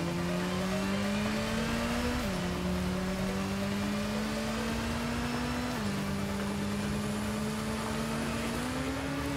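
A vehicle accelerating in the Batman-universe game Gotham Knights, engine note climbing steadily through three gear shifts with drops in pitch between, loud and continuous with no talk.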